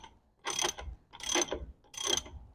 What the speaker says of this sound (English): Pull these nuts back off, and it'll kind of chase your threads.